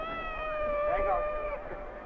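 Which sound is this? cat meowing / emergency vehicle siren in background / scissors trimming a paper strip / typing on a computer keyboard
cat meowing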